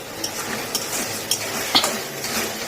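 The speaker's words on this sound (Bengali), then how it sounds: "হলুদ দিয়ে আর একটু নেড়ে নেবো" Egg curry with turmeric being stirred in a pan: a soft sizzle underlies a few brief utensil scrapes and clinks against the pan, close and moderately loud.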